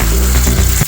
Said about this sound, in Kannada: ಈಗ ಫ್ರೈ ಆಗ್ತಾ ಉಂಟು.